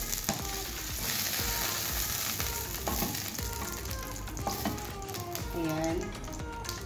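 Beef sautés in a pan for beef mechado, giving a loud, continuous sizzle broken by scraping stirs and clinks of a utensil against the pan.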